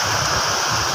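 Gullfoss waterfall in Iceland roars as a steady, dense rush of falling water, loud and unbroken throughout with no pauses or distinct events.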